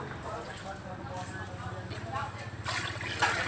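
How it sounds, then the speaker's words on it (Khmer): Water pours into a pot of chicken and vegetables for tom yum, a soft continuous splashing and gurgling, faint and close, with a voice talking over it. "យើងចាក់ទឹកចូលឲ្យល្មមសាច់ជាមួយនឹងបន្លែ"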